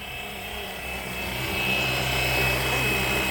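A Flywing Bell 206 RC model helicopter flies close by on its first flight in a small space, a steady high-pitched whine with a rotor buzz that swells slightly louder.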